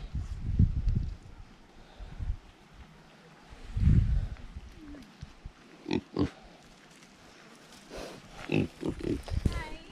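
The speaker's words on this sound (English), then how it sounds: "Here's the happy pig family." Pigs, including sows, grunt and snort nearby on a farm in Portugal in low bursts, with some squeals and a person talking in between.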